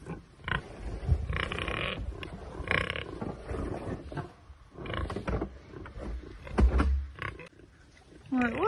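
Pigs grunt and snort in irregular bursts nearby, mixed with scuffling and animal noises, with a voice briefly audible.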